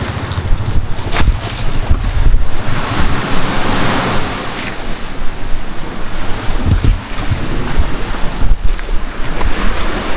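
Sea waves at high tide wash and roar loudly and continuously, close by, with gusting wind buffeting the microphone throughout.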